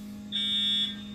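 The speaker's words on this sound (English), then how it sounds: "the fire alarms are going off" An apartment building fire alarm sounds a single loud, steady electronic buzzer tone for about half a second over a constant low hum, with no voices.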